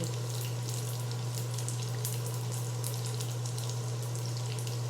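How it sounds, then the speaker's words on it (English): Food frying in very hot oil in a pan gives a loud, steady, dense sizzle with constant crackle and spatter, with no voices. "These are gonna fry faster because that pan is, that oil is really good and hot."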